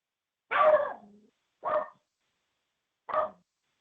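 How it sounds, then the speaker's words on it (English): A dog barks three separate times, the first bark longer with a trailing whine, the next two short and spaced apart, moderately close with no talking. "What was the dog saying?"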